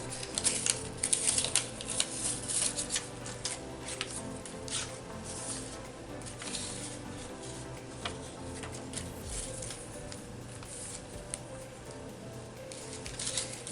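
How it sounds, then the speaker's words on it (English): Leftover scrap paper, pink or blue, is torn by hand at a craft table, making a run of quiet crackling, rustling rips in short bursts with no voices. "I think I'll just tear it."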